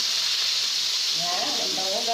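Loud, steady sizzling hiss of garlic frying in hot oil in a pan for chicken pork adobo, close by, with faint voice-like tones creeping in toward the end.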